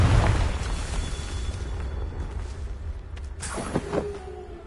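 A Confringo fire-blast spell explodes in Hogwarts Legacy, a heavy booming burst up front that rumbles away, followed by a smaller crackling pop and whoosh near the end.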